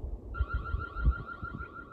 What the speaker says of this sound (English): I'm going to run it into the field and trigger the siren